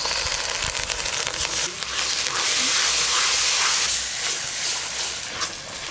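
Spice paste sizzling in a hot pan for a fish curry, a loud, close, continuous hissing spatter that swells and eases with crackling pops and no talking.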